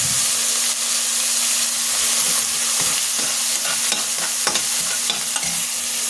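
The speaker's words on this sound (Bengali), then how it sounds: "এখন আমি এই তেলেই চাদা মাছগুলো ভেজে নিব।" Chanda fish frying in hot oil, a dense, even sizzle and hiss held close and loud throughout, with small pops and no speech.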